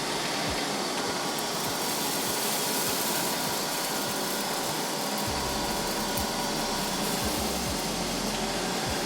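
A Neato D8 robot vacuum runs over carpet in a testing room, its motor droning steadily and loudly, with a scattering of low thumps and rattles as it picks up debris, and no talking.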